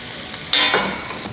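A steak sizzling in a pan, a steady hiss broken by a sharper scrape or spatter midway, heard close with no talking.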